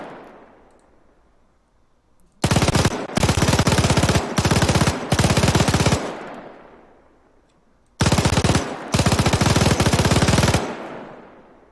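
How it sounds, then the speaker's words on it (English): Two long bursts of rapid MG42 machine-gun fire in ARMA 3 with a WW2 mod, loud and sustained with brief gaps, each trailing off into a fading echo. "crew this MG42 and see what it sounds like"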